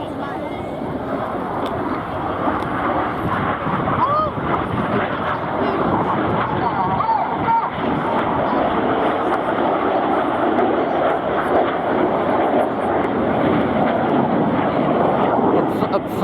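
Red Arrows display jets diving through the Crossbow manoeuvre at a 2022 air show over Swansea Bay, a steady loud broadband roar that holds throughout with a commentator talking over it.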